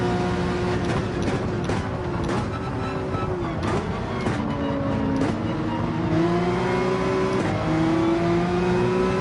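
A Porsche 911 engine revs and pulls hard through a corner in Gran Turismo 7, its tone climbing and falling with gear changes, loud and steady with no talking over it.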